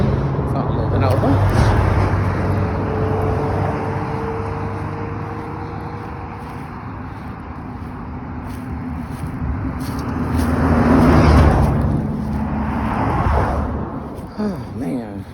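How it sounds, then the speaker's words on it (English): Cars pass along a road beside someone walking outdoors, a rising and falling rumble of engines and tyres that swells near the end, with a voice talking over it. "Cars coming, so I'm moving over."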